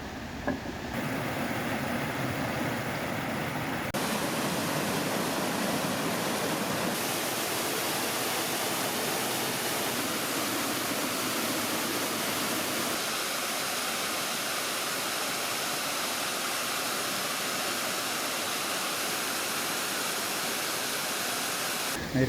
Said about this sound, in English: We got Paradise Lagoon off to my left. Some waterfalls down there.